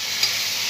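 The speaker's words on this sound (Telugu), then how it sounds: "నెక్స్ట్ టమాటాలు వేసుకోవాలి" Tomatoes hit a hot frying pan after the onions have fried, producing a brief, steady hiss of sizzling oil, close and even in level.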